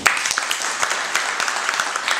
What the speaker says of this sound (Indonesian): Beri tepuk tangan buat kelompok ini.